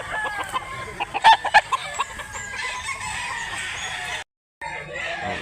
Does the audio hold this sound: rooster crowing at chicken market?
yes